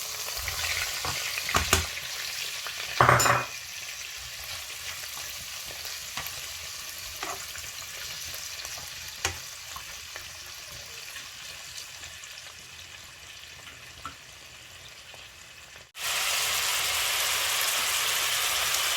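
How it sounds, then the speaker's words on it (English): Steady frying sizzle of stir-fry in a pan throughout, with a few clanks and scrapes of stirring early on, then a louder, brighter sizzle bursting in as prawns are added near the end. "now I'm going to be frying the prawns"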